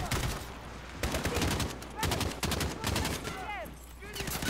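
Rapid bursts of AK rifle fire with a large magazine in the Modern Warfare campaign: loud, close automatic shots in quick volleys with short pauses between them, plus game sound effects.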